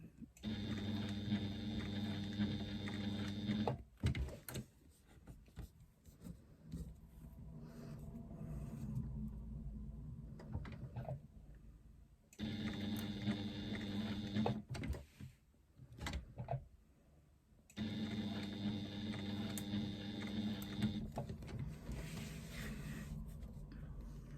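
A sewing machine stitching around curves in three sustained bursts of steady mechanical hum, separated by short pauses with soft handling noises and faint background sounds.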